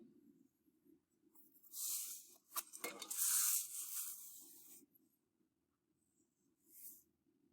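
A tool scratches around a mug on a slab of clay, giving a soft close rasping scrape that swells for a few seconds and then stops, with a brief second scrape afterward; low background hum, no talking.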